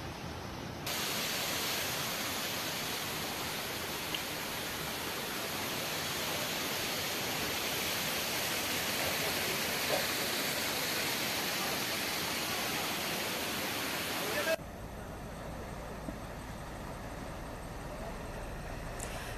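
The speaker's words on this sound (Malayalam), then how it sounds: "വയനാട്ടിൽ മുത്തങ്ങാപ്പുഴ കരകവിഞ്ഞു" Floodwater from the overflowing Muthanga river in Wayanad rushes in a dense, continuous roar, steady and loud throughout with an abrupt shift in tone near the end.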